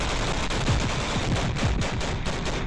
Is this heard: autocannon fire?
yes